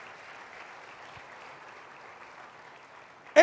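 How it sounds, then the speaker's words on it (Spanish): A church congregation applauding during a sermon, heard as a muffled, distant wash of steady clapping at an even low level, ending with a sudden short burst of louder sound. "Denle un aplauso fuerte a Él."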